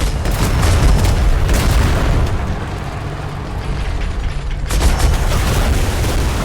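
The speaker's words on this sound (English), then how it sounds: "Give us a good broadside." Ship cannons fire a broadside in the video game Atlas: a heavy, continuous rumble of booming shots that rolls on for several seconds, eases off, then swells again with another loud volley near the end.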